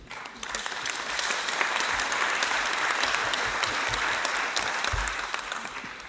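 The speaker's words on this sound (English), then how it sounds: "May we all extend a big round of applause to these very important people." A large crowd applauds steadily at a closing ceremony, a dense, sustained clatter of many hands clapping with no voices over it.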